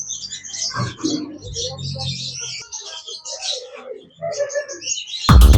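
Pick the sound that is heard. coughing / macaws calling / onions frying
macaws calling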